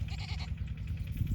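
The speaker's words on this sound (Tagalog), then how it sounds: "Big Mamang kambing." A goat on a farm bleats several times in quick wavering calls, close and fairly loud, followed by a shorter cry near the end.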